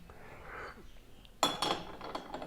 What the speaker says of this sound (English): Use the same spoon here, rinse it a bit.